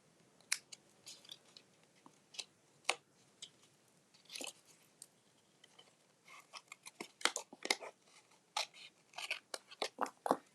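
Scissors snip through paper while someone cuts shapes for decorating a box top: quiet, irregular sharp cuts, sparse at first and then coming in quicker bursts.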